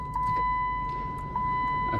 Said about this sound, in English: Show the windows working here.